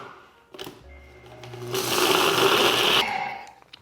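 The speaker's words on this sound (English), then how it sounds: "we're just going to use our NutriBullet today for that, just a small blender" A small NutriBullet blender pulverizes chunks of Deglet dates, a loud, dense whirring roar that surges up, holds steady for over a second, then cuts off, with clunking handling noise before it.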